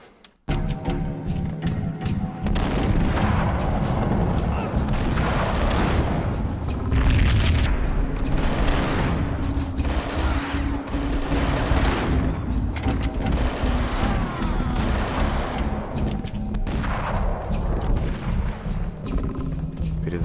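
Repeated gunfire and heavy explosions in a video game, loud booming blasts and rattling shots arriving in bursts across the whole stretch, with someone talking over the action.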